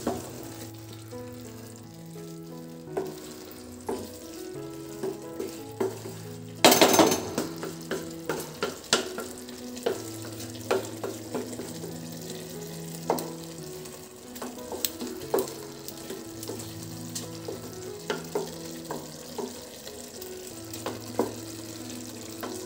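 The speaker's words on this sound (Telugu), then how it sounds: "రెండు చెంచాలు నెయ్యి వేసుకుందామండి. ఒకసారి బాగా కలపెట్టుకొని దమ్ వేసుకుందాం." Chicken donne biryani with ghee being stirred in a pot, a steady sizzle under repeated scraping and clinking strokes of a spoon against the metal, close and fairly loud, with a sharp clatter partway through.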